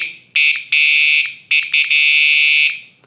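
A shrill electronic horn on a solar-powered electric bicycle blares in several bursts, some short and some held for about a second, loud and piercing with no talk.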